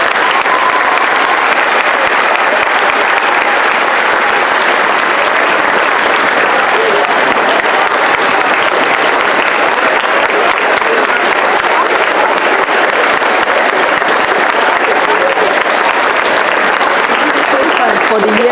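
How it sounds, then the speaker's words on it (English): A long, steady round of applause from a large crowd at a Veterans Day school assembly honoring veterans, dense and sustained at a constant loudness throughout. "Let's give them one more round of applause"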